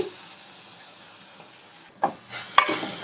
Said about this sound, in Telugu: ఒక నిమిషము ఎర్రగా వేగినాయి కదండి